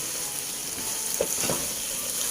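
Curry puff filling with spring onions, celery and dried shrimp stir-frying in a pan, a loud continuous close sizzle with a couple of brief stirring scrapes and no voices.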